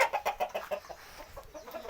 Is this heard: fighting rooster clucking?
yes